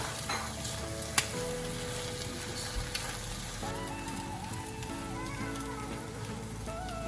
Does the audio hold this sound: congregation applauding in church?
no